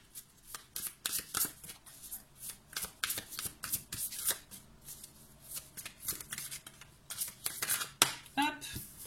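A deck of oracle cards is shuffled and drawn close up, producing a rapid series of crisp riffling bursts and papery flicks, repeated in uneven clusters with brief pauses between.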